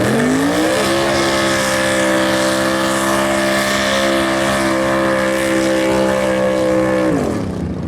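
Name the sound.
drag racing car doing a short burnout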